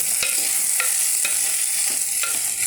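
A finely ground spice paste for a roasted-coconut theiyal sizzles in a pan. A spoon scrapes through it in a steady rhythm of strokes about every half second, close and clear, with no voices.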